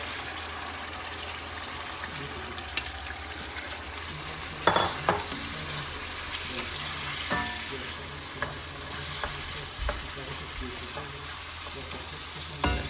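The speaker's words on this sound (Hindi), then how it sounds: "ठीक है, मैं अभी इसको फ्राई कर लेती हूँ।" Marinated chicken fries in a pan, giving a steady, close sizzle with watery bubbling, occasional stirring scrapes and light clinks throughout.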